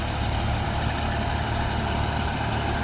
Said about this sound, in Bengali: তোমরা দেখতে পাচ্ছ শক্তিমান লোটার, এটা ম্যাসি 246।